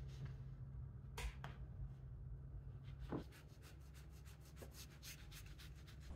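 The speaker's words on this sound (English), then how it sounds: "I take off the crust and using a rolling pin to flattening it down." A rolling pin pressed over crustless slices of wholemeal bread, making soft, muffled rubbing strokes and a few light taps, quiet and close with a low steady background hum.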